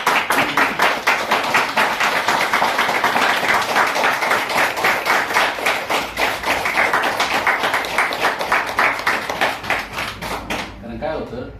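A training-session audience in a hall claps in unison, a loud, rhythmic run of sharp slaps at a steady pace that keeps going for about eleven seconds before fading out at the end.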